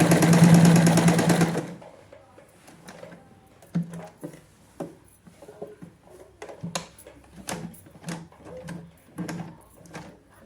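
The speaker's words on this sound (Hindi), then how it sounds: "मैं हाथ से स्टिच लगा रही हूं ताकि मेरी नीडल ना टूटे।" Sewing machine stitching a zip into trousers whirs loudly for a moment, then slows to separate, soft mechanical knocks and clicks as the wheel is turned by hand, one stitch at a time, with no talking.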